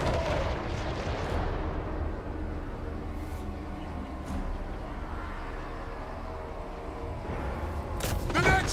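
Dwarf organ gun artillery in Warhammer 3 battle, a heavy rumbling barrage of booming shots that opens loudly, then continuing distant gunfire and bursts with a sharp volley near the end.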